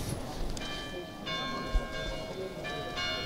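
Church bell of the Saint-Cernin church rings three o'clock in the afternoon, its sustained metallic tones swelling in repeated strokes over a faint street ambience.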